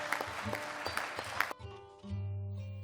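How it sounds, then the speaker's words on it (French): Members of Mali's transitional parliament, the CNT, applaud the Prime Minister in a chamber, a dense wash of clapping that stops abruptly partway through, leaving quiet room tone and a low hum. "le Premier ministre a été applaudi par les membres du CNT"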